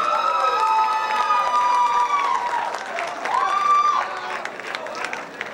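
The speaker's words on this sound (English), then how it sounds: "If there was any reserve on cheering, it's off now." An audience at an academic decathlon awards ceremony bursts into loud cheering and applause, with high whoops and shrieks rising over sustained clapping that swells, dips and surges again.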